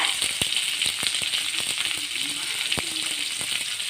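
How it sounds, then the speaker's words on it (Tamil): Chopped onions sautéing in a pan for bitter gourd poriyal give a steady, close sizzle, with scattered sharp clicks and taps from stirring throughout. "வெங்காயம் நல்லா வதங்கினோடனே நல்லா வதங்கட்டும்"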